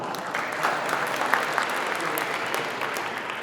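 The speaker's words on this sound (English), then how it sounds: "So round of applause for that." Audience applause fills a room at a South Asian Bar Association annual fundraising gala, a steady dense wash of clapping at moderate level with a few sharper peaks.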